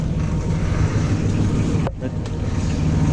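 A Yanmar 3YM30 marine diesel engine with new belts running steadily, a continuous low rumble with broadband hiss, briefly dipping once before resuming evenly.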